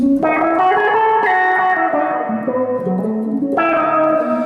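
An electric guitar on its neck pickup through an Electro Harmonix Micro Q-Tron envelope filter in low-pass mode plays a few ringing chords and notes, warm and muffled with a swelling, wah-like tone.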